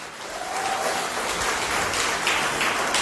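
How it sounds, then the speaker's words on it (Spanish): Applause from a church congregation praising the Lord during a Spanish-language sermon, a steady dense wash of many hands clapping together that holds for a few seconds at moderate loudness with no talking over it. "Den un aplauso al Señor."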